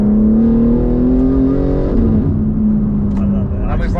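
A loud exhaust from a 721 bhp Stage 2 tuned rear-wheel-drive BMW G80 M3 roars steadily with valves open, its engine note climbing as the car accelerates close by, with a crackle near the end.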